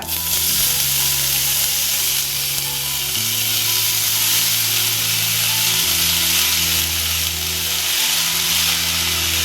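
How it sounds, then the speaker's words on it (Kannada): Mustard seed tempering splutters in hot oil as red amaranth leaves go in, producing a loud, continuous sizzle with a low electrical hum running underneath and no talking. "ಈಗ ಒಗ್ಗರಣೆ ಸಿಡಿದ ಕೂಡಲೇ ಸೊಪ್ಪು ಹಾಕುವ"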